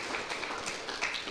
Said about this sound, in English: I think that's worth a round of applause